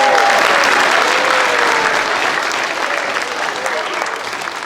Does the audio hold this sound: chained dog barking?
no